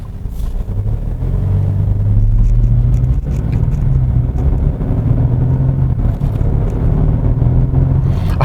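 Hyundai Sonata N Line (2021) engine with its artificial active sound design plays a steady, loud low drone through the cabin, a layered hum and rumble that holds evenly with slight swells throughout.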